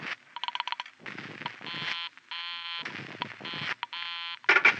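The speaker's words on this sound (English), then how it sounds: "I held off dialing the last number on my phone until she got an answer" A telephone number being dialed on a 1949-era radio drama phone, a rapid run of tone pulses followed by longer sustained tones in several bursts, clear and close with no voices.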